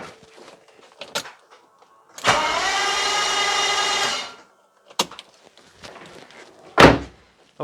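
A BMW E31 850i V12 under restoration cranks over for about two seconds with a loud, even starter whir. Scattered clunks and knocks come before and after.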